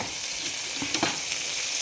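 Whole spices, crushed garlic, ginger and green chilli sauté in hot oil, giving a steady close sizzle with a few brief louder crackles and spatters.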